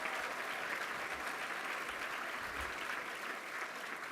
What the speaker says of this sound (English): So please give everyone and Sarah a big round of applause.